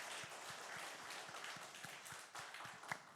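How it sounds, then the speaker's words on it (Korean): A church congregation at a Christmas Day worship service claps in thanks, faint and distant, with a steady rhythmic beat of hands in unison. "우리 다시 한번 우리 주님께 감사의 박수를 올려드립시다."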